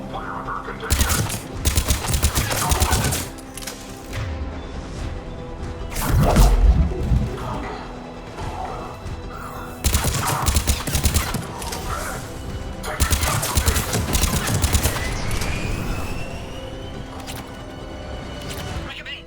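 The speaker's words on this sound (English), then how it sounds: "They're under fire." Gunfire crackles at a Cerberus checkpoint in Mass Effect 3, with loud, close bursts and sharp impacts in dense clusters, broken by brief lulls, while voices talk over the combat.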